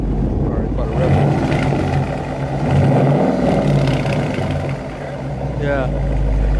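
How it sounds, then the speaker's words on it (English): Engine of a Mopar Hellcat or Scat Pack with active exhaust, which has an exhaust rattle, rumbles steadily and swells in a couple of revs, close and loud, with people talking over it. "Alright, let me give it a little rev."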